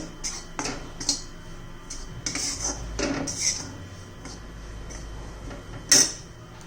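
Gram flour being dry-roasted in a pan, heard as scattered light clinks and scrapes of a utensil against the pan, with a sharper metallic tap near the end, no talking.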